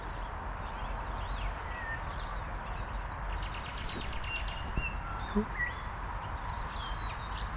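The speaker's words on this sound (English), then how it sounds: "I can hear silver eyes. That warbly, high-pitched whistle." High, warbly silvereye calls chirp repeatedly over a steady outdoor background hum in a wetland, moderately distant.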